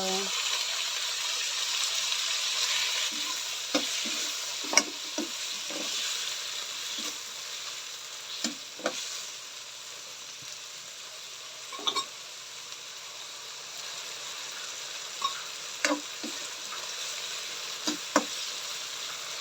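Cabbage and carrots stir-frying with tomato added, a steady close sizzle with scattered clinks and scrapes of a utensil against the pan, faint talk in the background.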